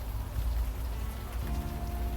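Rain falls steadily in the video game Unavowed, a dense, even patter with a low rumble underneath, moderately faint and continuous without any voices.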